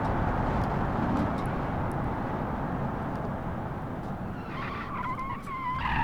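A car skidding and oversteering under braking in BeamNG, with a sustained engine roar and tire scrub that settles into a rising squeal near the end.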